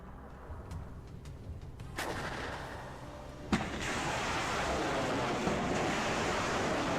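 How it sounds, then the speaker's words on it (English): A MARS rocket artillery launcher fires in WARNO, a sharp crack followed by a rising, sustained rushing roar of rockets over a low background rumble. "Looks like the Mars is about to fire on something."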